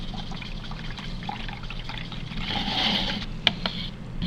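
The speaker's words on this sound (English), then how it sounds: "Rinse my brush." A paintbrush is swished and rinsed in a water container while painting a color wheel, a soft, faint trickle and slosh that swells briefly near the end.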